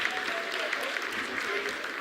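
Staff in mission control clap during the Chandrayaan-3 lunar soft landing in its vertical descent phase, a steady, fairly faint burst of applause with voices talking over it.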